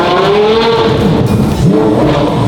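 A Porsche Carrera GT fitted with an Inconel F1-style exhaust revs hard and close, its loud engine note rising and falling in sweeping surges with no voices over it.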